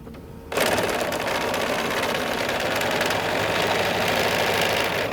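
A sewing machine stitching a quilt block runs steadily after a brief quiet start, its rapid mechanical stitching clatter continuous and close.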